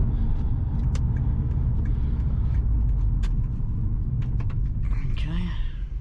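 Subaru Impreza STI fitted with an ACT Extreme Organic clutch pulls away, its engine giving a steady close rumble as the clutch is slipped, with a voice talking over it.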